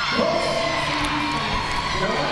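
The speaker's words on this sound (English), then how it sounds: "Steel City screaming and cheering" A roller derby crowd at a 2011 East Region playoff bout screams and cheers for Steel City, a loud, dense roar of many voices with whoops and yells sustained throughout.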